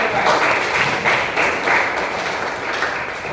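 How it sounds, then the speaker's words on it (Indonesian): Scattered classroom clapping for a teacher during an English lesson, several bursts of hand claps of moderate loudness lasting about three seconds, with faint voices underneath. "tepuk tangan untuk saya"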